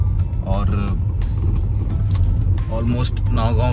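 A car's low engine and road rumble holds steady on a rough stretch of road toward Dimapur, under a man's close speech.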